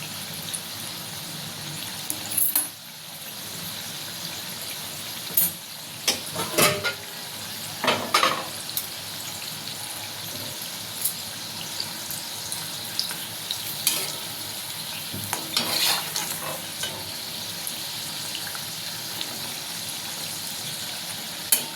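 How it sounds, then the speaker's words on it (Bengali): Snacks deep-frying in oil in a pan over low heat, a steady bubbling sizzle running throughout with occasional stirring clinks and sharper crackles, close and without talk. "একটু কম আঁচে ভাজতে হবে, ভেতর থেকে যাতে ভাজাটা হয়।"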